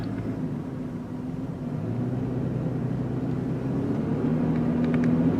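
A 2017 Toyota 4Runner speeds up on the highway, its steady engine drone and road rumble building gradually from a low hum to a slightly louder, rising tone, heard close from inside the cabin with no talk.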